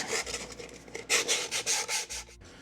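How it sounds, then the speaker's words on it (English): Sandpaper lightly sanding a cast iron pan, a series of soft rhythmic scraping strokes, close and fairly quiet, with no talking. "So we're just going to use some sandpaper, lightly sand it."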